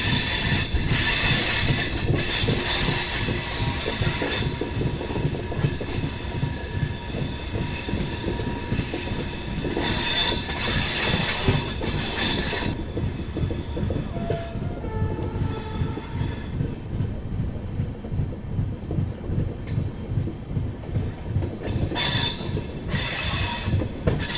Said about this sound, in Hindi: ट्रेन निकल चुकी है सुल्तानपुर जंक्शन से